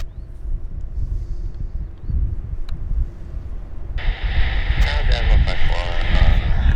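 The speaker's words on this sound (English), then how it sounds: "Specially chartered A319 from Air Canada." An Air Canada Airbus A319 airliner at Vancouver's YVR airport rumbles with low jet engine noise and wind, growing louder and brighter partway through as the engines spool up, with voices talking over it.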